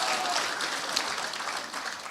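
A lecture audience at a local freedom-movement rally in Gangneung gives a brief round of applause. The many hands are faint and thin and fill about two seconds.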